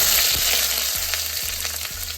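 Chopped onions dropped into hot oil in a kadai with bay leaves and dried red chillies, giving a loud, steady, close sizzle and hiss with a few soft bumps, no talking.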